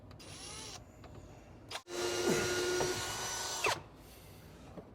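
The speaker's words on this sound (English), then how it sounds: "we're drilling a hole so we can run the wires down and feed them through here" A power drill bores a hole through a body panel on a RZR Pro R side-by-side, a loud steady whine with a changing pitch that runs about two seconds after a short earlier burst, close to the microphone.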